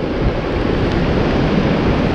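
Dangerous, heavy sea waves surging near the Hassan II Mosque and marina, a loud continuous roar of surf battered by strong wind, with no voices.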